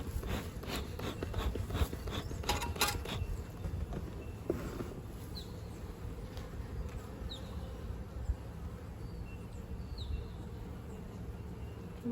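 Honeybees buzz around hives in an Australian apiary, a steady outdoor insect drone lasting throughout, with a few brief rubbing and knocking sounds near the start.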